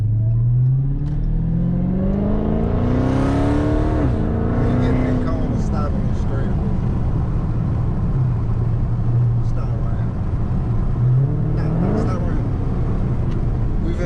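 A Dodge Daytona Hellcat Widebody engine drones steadily while driving, climbing in pitch as it revs early on and again later, heard loud and close from inside the car.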